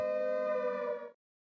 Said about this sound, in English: Wait, that's a warning siren.